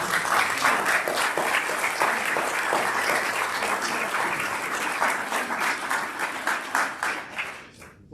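Audience at a National Cryptologic Foundation cocktails event applauding a speaker, warm sustained clapping from a crowd that fades out near the end.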